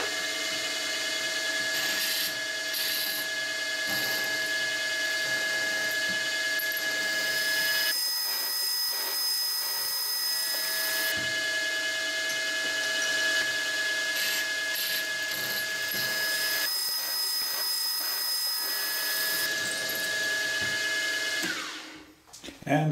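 A 4.8 mm drill bit bores holes in a metal adjustable angle plate, making a steady, loud, whining machine drone that shifts pitch a few times before cutting off abruptly at the end.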